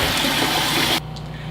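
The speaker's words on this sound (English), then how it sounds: "And fill the pot with cold water" Cold water running from a tap into a pot, a steady rushing gush that stops abruptly after about a second, leaving a quiet background.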